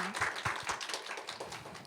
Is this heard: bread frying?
no